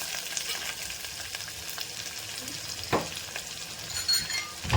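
Crushed onions sauté in a pan for tamarind rasam, a soft, fairly faint sizzle with occasional scraping stirs and light clinks of a utensil, no voices.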